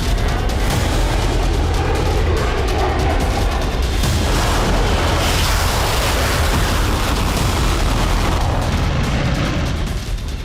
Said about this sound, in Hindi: क्रीवी रीह पूरी रात धमाकों से दहलता रहा